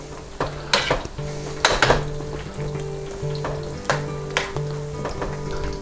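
Vegetables fry in hot ghee with a steady loud sizzle, broken by sharp clanks and scrapes of a utensil against the pan and a tonal hum running underneath.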